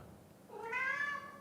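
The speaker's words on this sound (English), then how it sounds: "Oh, my cat is exploring the space right now." A cat gives a single rising meow, clear and close, lasting about a second against a quiet room background with no speech.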